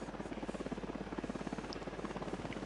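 A helicopter in Ghost Recon Wildlands on PS4 Pro beats with a steady rotor thump, a fast rhythmic chop holding at moderate level throughout without speech.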